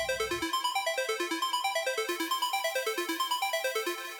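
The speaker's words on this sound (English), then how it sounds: "Then without the noise, it just sounds like a regular square wave." A clean, hollow square-wave synth without added noise plays a fast, steady future bass arpeggio of short notes cycling through a repeating pattern, with nothing else underneath.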